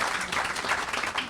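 Audience at a neighborhood groundbreaking ceremony gives a round of applause for Sabrina, with moderately loud clapping from a crowd that comes in uneven ripples for a moment.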